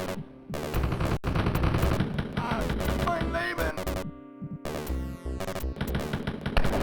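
Rapid gunfire in the retro shooter Spear of Destiny, run through ECWolf: sharp repeated shots in close succession over game music and effects, loud and continuous across the few seconds.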